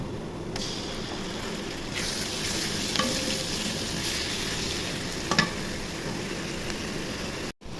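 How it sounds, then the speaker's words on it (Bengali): Ginger and garlic fry in hot oil for a Bengali taki fish bhuna, giving a steady close sizzle with occasional scrapes of a spoon stirring the pan, and no voices. "এখন আদা রসুন দিয়ে ভেজে নিব।"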